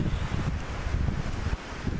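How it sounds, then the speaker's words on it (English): A strong gust of wind buffets an outdoor microphone during a dog obedience training session. The rumble is loud and continuous and flutters across the whole stretch, with no talk. "we're getting this wind gust that's very distracting"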